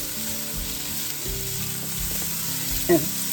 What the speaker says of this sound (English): you just want to give this a sear a little bit